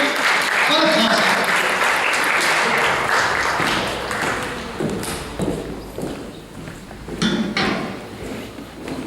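Audience applause at a poetry gathering, a dense wash of clapping that starts loud and gradually thins out, with scattered voices mixed in.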